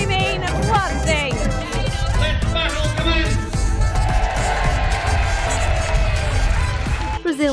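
A crowd lines Victoria Avenue for the Battle of Flowers parade on a sunny day, with a steady murmur and cheering beneath a voice speaking loudly over it.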